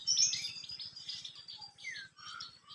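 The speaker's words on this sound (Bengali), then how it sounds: "এখন সকালবেলা এই যে বসন্তকালে কুকিল ডাকতেছে শোনা যাক অনেক সুন্দর সুর" Asian koel and other birds singing on a spring morning in rural Bangladesh, bright repeated calls and chirps overlapping, with a steady low rhythmic insect-like pulsing underneath throughout.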